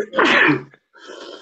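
A single sharp sneeze bursts out close by during a panel discussion on cryptocurrencies, followed by a brief pause and a faint trailing breath or murmur.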